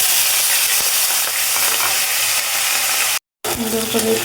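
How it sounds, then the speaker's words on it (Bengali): Potatoes and fish fry with cumin seeds in hot oil, a loud, dense, continuous hiss and sizzle that cuts out briefly before resuming. "মাছ ভাজার ওই তেলের মধ্যে আমি কয়েকটা জিরা দিয়ে দিলাম, এরপরে আলু আর মাছ"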